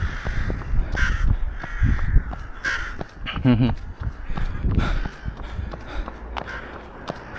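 A flock of crows caws repeatedly along a rural road, several calls overlapping at moderate distance while a runner's footsteps, breathing and talk carry on beneath during a 15 km countryside marathon-style run.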